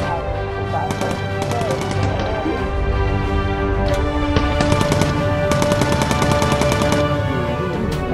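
Bomber gunners fire machine guns in the video game Bomber Crew, with loud, continuous rapid bursts rattling over a droning aircraft engine and game music, and the firing stops and restarts partway through.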